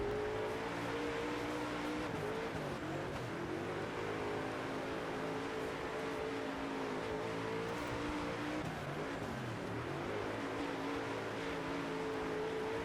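A dirt race car engine in the World of Outlaws dirt racing game drones continuously, revving and easing as it laps, with a steady, dense engine tone and no other sounds.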